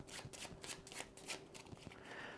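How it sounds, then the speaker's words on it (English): A deck of playing cards for the solo card game Deckers being shuffled by hand: a run of quick, papery riffling bursts, close and clear, with no talking. "basically I'm going to shuffle all my cards"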